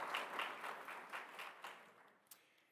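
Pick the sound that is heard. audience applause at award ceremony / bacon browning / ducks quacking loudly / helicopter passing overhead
audience applause at award ceremony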